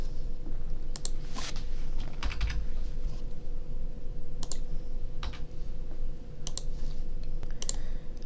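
Several crisp, quick clicks at irregular spacing over a steady hum, like a computer mouse or keys being worked on a desk while setting up PWM timers in microcontroller software; no one speaks.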